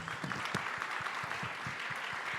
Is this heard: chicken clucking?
no